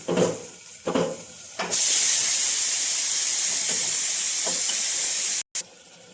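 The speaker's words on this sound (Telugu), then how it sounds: "ఇప్పుడు సన్నలుగా కట్ చేసుకున్న టమాటా ముక్కలు వేసుకుంటున్నాను" Chopped tomato pieces hit a hot pan for a mutton and leafy-greens dal, bursting into a loud, sustained sizzling hiss after a few brief clatters, then cutting off abruptly near the end.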